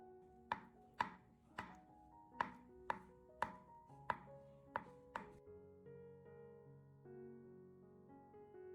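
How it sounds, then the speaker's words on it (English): Boiled egg whites chopped finely with a knife on a board: about nine crisp, evenly spaced chops over roughly five seconds, close and fairly soft, then a quieter stretch with a faint sustained tone and no speech. "The whites, on the other hand, can be chopped finely with a knife for a smooth bite."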